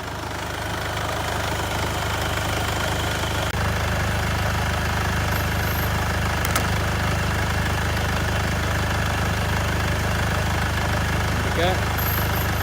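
A Mercedes B200 engine idles steadily and loudly throughout, a constant low rumble at close range during a transmission service, with no talking over it.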